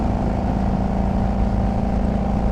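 A Harley-Davidson Road King motorcycle engine rumbling steadily while riding, a low continuous throb mixed with wind noise, close and loud with no talking.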